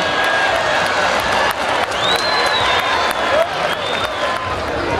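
A crowd applauds steadily for several seconds at a rural event of traditional games and horse breaking. The clapping is dense and sustained, with a few whistles rising over it.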